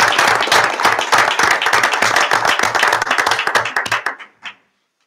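Applause at a school board meeting for a sign language interpreter, Sarah Gangler: a small group clapping close and steadily, thinning out near the end to a few last claps and then silence.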